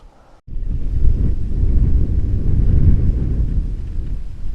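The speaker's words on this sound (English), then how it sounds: "The wind is still blowing here though." Steady wind gusts buffet the microphone at a lakeside beach in Oregon's Wallowa Mountains, a loud continuous low roar that swells and eases for several seconds after a brief quiet start.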